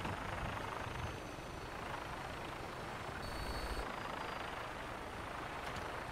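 A Vertibird aircraft from Fallout 4 sets down, giving a steady, loud rotor and engine roar with a rumbling low end that holds without a break.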